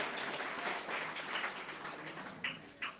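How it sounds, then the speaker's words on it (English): Audience clapping at an annual mosque community event, a soft continuous patter of hands somewhat distant and fairly faint, with a couple of sharper claps near the end. "Clap, clap, clap."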